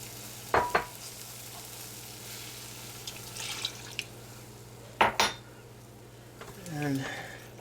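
A whisk works through homemade béchamel sauce in a pan over moderate heat, giving quiet scraping and stirring with a few sharp clinks against the pan between stretches of low simmering hiss.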